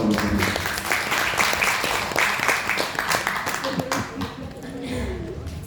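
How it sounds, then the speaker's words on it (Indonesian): Audience applause at a testimonial event for a herbal remedy, steady dense clapping over several seconds with voices and murmuring mixed in, fading somewhat toward the end. "Tepuk tangan dulu dong"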